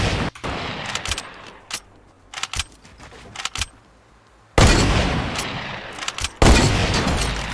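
Gunfire in Fortnite: scattered sharp single shots early on, then two loud bursts of rapid fire in the later seconds, with no talking.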